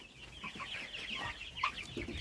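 Broiler chickens (Ross 708) clucking softly nearby, a few short murmuring clucks and one sharper note against faint farmyard background.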